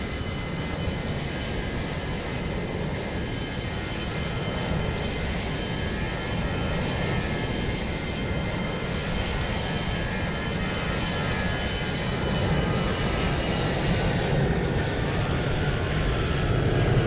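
Ryanair Airbus A320 airliner in Microsoft Flight Simulator 2020 at Lisbon airport, a steady loud engine roar with broadband rumble and faint tonal whine, holding constant and swelling slightly near the end.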